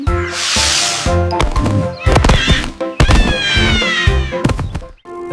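A tomcat meows loudly in a children's story sound effect, with drawn-out, wavering yowls and caterwauls over about five seconds, punctuated by a couple of dull thunks, with no speech.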